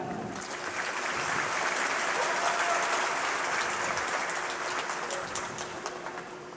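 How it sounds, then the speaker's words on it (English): Sustained applause from a large audience at a high school ceremony forms a dense, even wash of clapping that lasts more than six seconds. "Give yourselves a round of applause."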